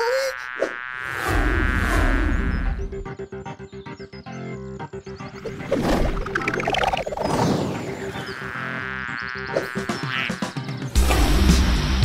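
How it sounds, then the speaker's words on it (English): A cartoon swarm of bees buzzes loudly and continuously in a high, whining drone, mixed with whooshes and crashing hits as the bees attack, dense and close throughout. "The bees are starting to attack Harry."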